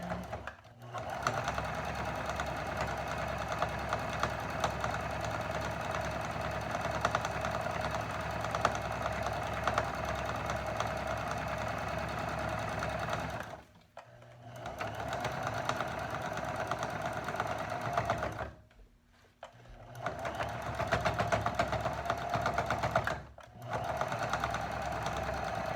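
A sewing machine back stitches and sews seams on a two-layer fabric face mask, a close, steady mechanical whirring in long continuous runs broken by a few short pauses, with no talking.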